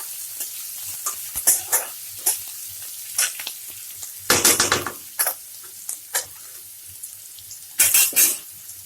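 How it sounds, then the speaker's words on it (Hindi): Chopped onions sizzle in a pan for veg noodles as a utensil stirs them, bursts of loud scraping and hissing repeating at irregular intervals over a constant low frying crackle. "अब मैंने इसमें डाल दिया है कटी हुई प्याज, इसे भी चला लेंगे।"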